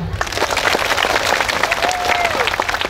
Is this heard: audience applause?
yes